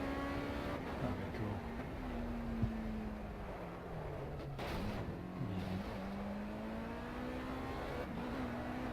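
Race car engine in the video game Project CARS, a steady droning whine that rises and falls with gear changes and revving, fairly faint and continuous, with occasional voices over it.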